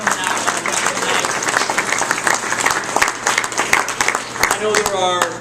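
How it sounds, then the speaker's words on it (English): An audience claps continuously through a community meeting kicking off Citizens for Homewood Schools, a steady dense patter of hands with a voice briefly rising near the end. "Just want everyone to applaud yourselves for coming out on Wednesday night."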